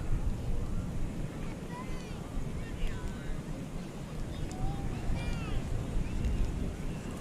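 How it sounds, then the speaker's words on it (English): Breezy wind gusts steadily across the shore at North Myrtle Beach, a constant broad roar buffeting the microphone throughout, with faint voices and occasional high chirps underneath. "It's really breezy down here."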